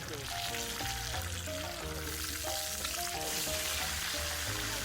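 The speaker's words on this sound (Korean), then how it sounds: "통나무 버너 겸 우드 스토브가 화력이 세니 고기가 정말 잘 구워졌어요" Meat grilling on a log burner wood stove at a campsite, a constant crackling sizzle running throughout, with a quiet tonal melody layered over it.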